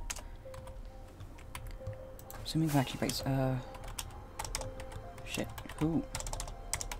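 Rapid keyboard typing clatters steadily under a gamer's excited talk while playing on a Minecraft server, the clicks continuous throughout with voices breaking in.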